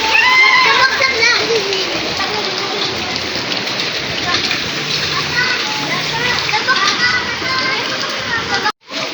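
Steady heavy rain falling and splashing outdoors while a child plays out in it, loud and continuous, with children's voices and talking over the downpour.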